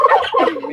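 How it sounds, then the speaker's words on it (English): Turkeys let out a loud, close, warbling gobble, a short burst of rapid throaty calls with no voices alongside. "Turkeys."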